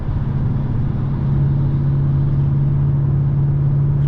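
A 5.7 Hemi R/T V8 drones steadily and loudly from the driver's seat while driving, a deep, even rumble that holds its pitch with only a slight rise partway through.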